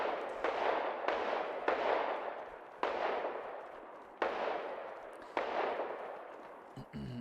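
Gunfire in the military shooter Arma Reforger, six or seven sharp reports spaced about a second apart, each trailing off in a long echoing decay, moderately distant and loud.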